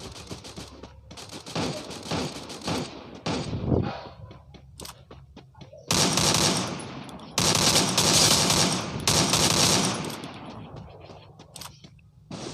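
Loud video game gunfire in long automatic bursts and sustained volleys, broken by short quieter gaps, with some talk underneath.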